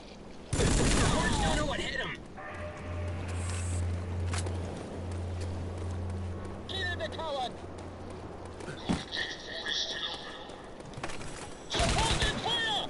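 Shotgun blasts in Rogue Trooper Redux come in loud bursts near the start and again near the end, separated by a stretch of steady low hum, quieter effects and voices talking.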